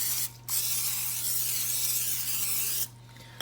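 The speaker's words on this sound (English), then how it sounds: "we're going to hit them with olive oil cooking spray" Olive oil cooking spray hisses onto jalapeño poppers before they go on a Big Green Egg grill: two close, steady aerosol bursts, one long and one shorter, over a low electrical hum.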